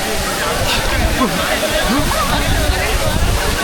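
Agaya Gangai waterfall in Kolli Hills, a loud, steady rushing roar of falling water close by, with people talking and shouting over it.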